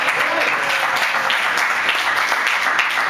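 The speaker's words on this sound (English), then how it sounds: "Nice applause from here" Comedy club audience applauding a stand-up comedian, a loud dense burst of clapping that stays steady throughout, with faint crowd murmur mixed in.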